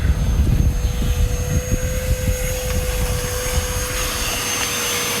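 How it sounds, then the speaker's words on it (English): A loud, steady vacuum-like roar of a cleaning machine inside a hoop house, rumbling continuously with a faint high whine, no voices. "As you can hear, Mandy's cleaning in the hoop house."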